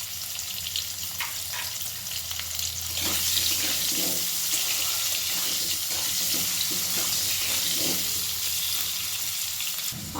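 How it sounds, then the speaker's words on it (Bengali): Potatoes fry in a pan over a high gas flame, a steady bright hiss of sizzling oil with occasional scraping and stirring knocks, close and loud, with no voices. "গ্যাসের ফ্লেমটাকে এ সময় হাইতে করে আলুগুলোকে আমি খুব লাল লাল করে ভেজে নেব।"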